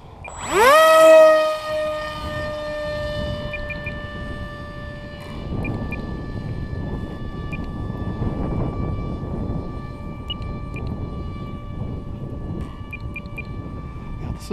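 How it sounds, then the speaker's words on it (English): An electric Super MEGA-Jet ducted-fan motor with a 7x5 prop on a model A-6 Intruder jet, running at full speed: a loud rising whine at the start, then a steady high-pitched tonal scream of the plane flying past. "this is the Super MEGA-Jet motor with a 7x5 prop, full speed"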